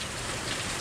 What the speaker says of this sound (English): heavy downpour will pass and we'll be able to get on with the day.